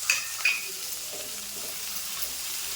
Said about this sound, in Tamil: இதையும் போட்டு வதக்குவோம்.